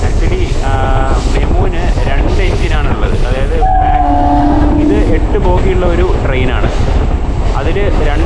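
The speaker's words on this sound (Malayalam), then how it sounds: "നല്ല രസമാണ് ഈ main line electrical multiple unit എന്ന് പറയുന്ന ഈ മെമുലി യാത്ര ചെയ്യാൻ" A MEMU mainline electric multiple unit train runs between Palakkad and Thrissur, heard from inside as a loud, continuous rumble and rattle that fills the stretch, with a brief horn-like tone midway and some voices mixed in.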